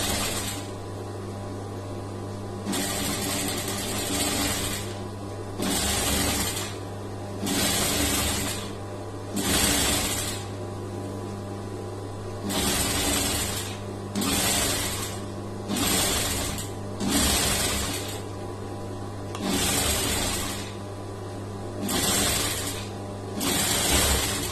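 A sewing machine runs repeated bursts of edge stitching along the cross piece of a lined blouse, short runs with pauses between, close and steady over a constant low hum.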